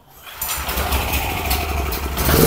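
A small portable generator, choked and pull-started, catches and runs up to a steady, loud engine drone with a low throbbing beat, rising slightly in level toward the end.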